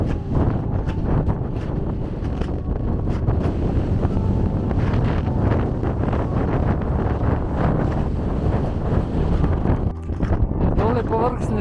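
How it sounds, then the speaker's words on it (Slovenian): Strong wind roars across the summit of Snežnik mountain, buffeting the microphone in a loud, continuous rush that stays steady throughout, with faint voices partly buried beneath it. "Kot vedno vetroven."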